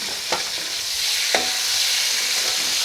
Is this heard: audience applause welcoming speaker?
no